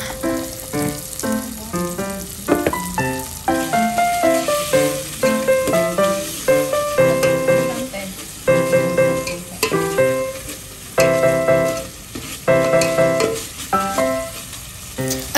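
Ground chili paste sizzles and spatters as it fries in a hot pan, with repeated bursts of stirring and scraping throughout.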